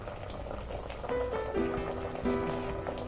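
Sambar, a lentil and tamarind stew, bubbling in a pot at a steady simmer, with a continuous low gurgle and soft popping and a few faint clinks or tones over it.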